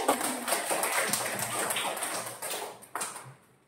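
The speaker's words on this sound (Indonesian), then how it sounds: "Tepuk tangan untuk Nabila." Schoolchildren in a classroom clap for a classmate named Nabila, a dense, steady patter of many hands that goes on for several seconds before thinning out near the end.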